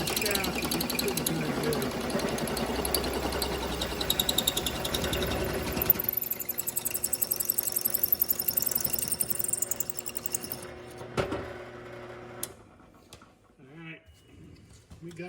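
A drill bores a hole through a scissor lift safety release handle mount, a steady whirring buzz for several seconds that cuts off, followed by quieter handling clatter and a voice.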